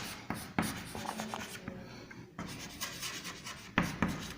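A pen writes by hand on paper in short scratching strokes that come in bursts with brief pauses, heard up close and fairly quiet. No voices are present.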